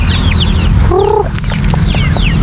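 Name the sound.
ducks in a backyard farm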